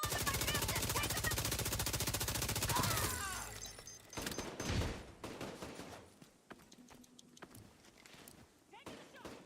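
Rapid machine-gun fire in a video game, loud and continuous at first, then breaking into scattered shots and thuds amid quieter game sounds, with a voice speaking at times.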